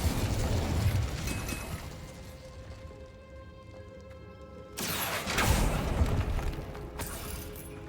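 An Incendio fire spell cast in Hogwarts Legacy inside a decayed catacomb, a sudden loud whooshing burst of flame erupting after a quieter stretch of ambient game sound, then trailing off.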